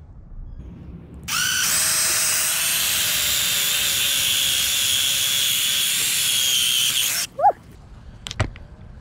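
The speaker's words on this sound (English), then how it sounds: "Drill a hole." A power drill whines steadily for about six seconds, loud and close, drilling a hole during a jon boat to bass boat conversion, then stops; a few brief knocks and a short squeak follow.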